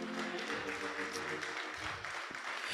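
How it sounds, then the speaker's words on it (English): An audience at a church district spring conference claps steadily in a dense, continuous round of applause, fairly loud and filling the room, with voices faintly under it. "Give him a hand clap."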